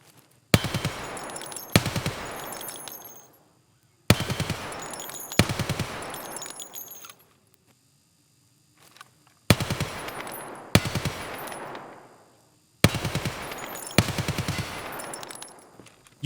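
UMP submachine gun firing in Escape from Tarkov, several sharp full-auto bursts of a second or two each, separated by short silences, loud and close with no talk.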